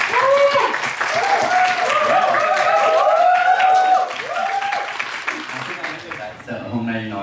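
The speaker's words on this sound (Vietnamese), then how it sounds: "một tràng pháo tay thật lớn ạ." Applause from the audience welcoming the two directors onstage at a sitcom launch event, broadband clapping filling the first few seconds while an amplified voice and music run over it, fading toward the end.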